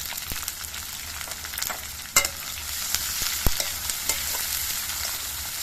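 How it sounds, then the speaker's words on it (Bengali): Steady hiss of chopped onions frying in hot oil until reddish, with occasional sharp clicks and scrapes from stirring, close up and fairly loud. "পেঁয়াজগুলোকে একটু লালচে রং করে ভেজে নেব"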